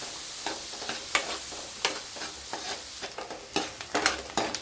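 Onions, red chillies and green chillies sizzle in hot oil with whole garam masala for chicken pulav as a spoon stirs and scrapes the pan in repeated close strokes over a steady frying hiss, with no talking.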